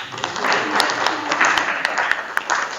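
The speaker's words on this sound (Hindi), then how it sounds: "एक बार जोरदार तालियां बजाइए" A crowd at a Hindi poetry recital applauds steadily for about three seconds, dense clapping with a few sharper individual claps standing out, fairly close and loud.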